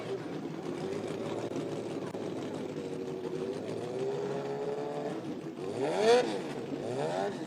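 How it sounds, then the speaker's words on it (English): V10 Formula 1 racing car engines rev and whine in the distance at Road America, a continuous droning roar with a sharp rising throttle blip near the end. "you can hear those F1 cars in the background, flipping the throttle"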